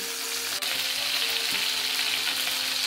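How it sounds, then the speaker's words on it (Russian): Chicken pieces sizzle steadily in a hot pan for a Caucasian-style dish, a close, even crackling hiss with occasional small pops and no talking. "Пока жарится наша курочка"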